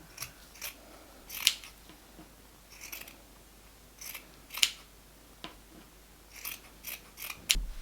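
Scissors snip slits into a cotton T-shirt in a quiet room, a handful of crisp, close cuts spaced about a second or so apart, each a short metallic crunch with faint rustling of fabric between them.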